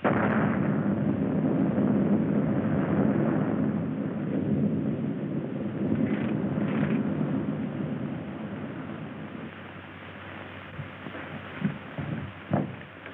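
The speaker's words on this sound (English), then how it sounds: "There's been an explosion, sir." An explosion in a 1938 film soundtrack: a loud, sustained low rumble that slowly fades over about thirteen seconds, followed by a few faint knocks and thuds near the end.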